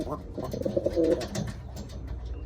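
A bird gives a soft, low cooing call nearby, a short series of throaty coos over faint background noise.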